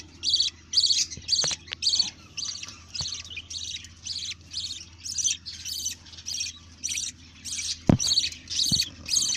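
A colony of pet birds with newly hatched chicks chirps in quick repeated bursts, loud and close, with a low steady hum underneath and a couple of sharp knocks.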